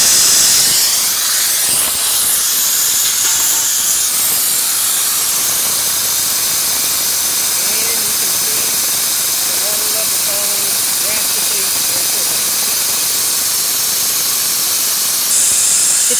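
A Redline ODT-30-E oil drain sucking under suction gives a loud, steady broadband hiss and rush that holds for the whole stretch, with faint squeaks and light background noise.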